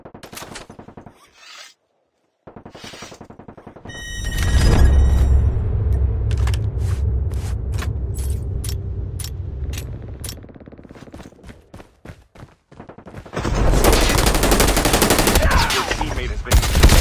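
Automatic weapon fire in Call of Duty Mobile on the Alcatraz map, with loud sustained bursts of rapid gunfire, a pause with scattered shots, then another long dense burst, mixed with game effects.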